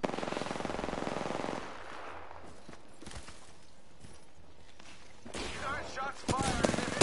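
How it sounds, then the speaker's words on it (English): Rapid gunfire in the video game Apex Legends, a dense automatic burst up front followed by scattered shots, thuds and game effects, with voices talking over the action. "Shots fired."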